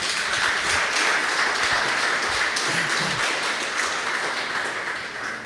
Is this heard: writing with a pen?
no